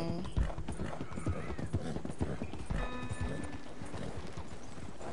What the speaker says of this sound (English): This is actually a good horse.